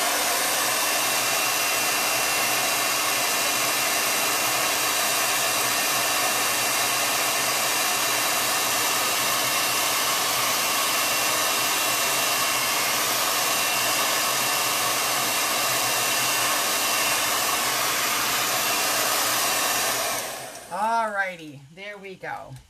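A hair dryer blows steadily and loudly at close range for about twenty seconds, drying a chalk-paste design on a kids' T-shirt, then cuts off and a voice speaks briefly at the end.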